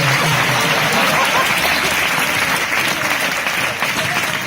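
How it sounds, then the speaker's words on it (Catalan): Audience at a Falla celebration in Alzira applauding a xaranga brass band, loud continuous clapping from a crowd filling the space, with faint voices underneath. "un fort aplaudiment per a la banda."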